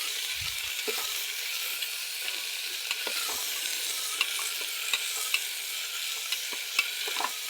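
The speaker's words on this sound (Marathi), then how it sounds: "हे आपण टाकतोय आपण हा चांगला हलवून घ्यायचे" Biryani masala, turmeric and salt being stirred in a hot pan, a steady bright sizzle with scattered soft scrapes and taps of the spoon, close up and without talk.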